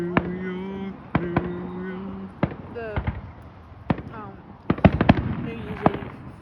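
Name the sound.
fireworks exploding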